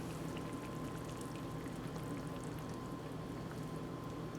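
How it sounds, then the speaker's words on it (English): Cream poured into a simmering charcutière sauce for pork chops, a soft steady pour and low bubbling held at an even, quiet level throughout. "Then add the cream."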